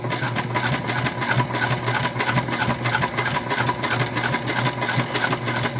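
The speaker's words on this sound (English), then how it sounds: "It's just a top stitch all the way around all the sides and all the pieces of the bow." A sewing machine runs steadily, top stitching along the edges of a fabric bow for a bag pattern, its needle chattering in a close, even hum with no one speaking.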